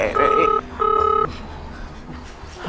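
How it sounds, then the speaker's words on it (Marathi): A telephone gives two short electronic ring bursts, close and fairly loud, followed by quieter room sound with faint voices. "रामू फोन."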